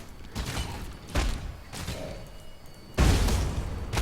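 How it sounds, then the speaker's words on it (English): Fire spell explosions in Path of Exile, several soft booming bursts at irregular intervals, the last one strongest, over a steady background of game noise. "I love that explosion"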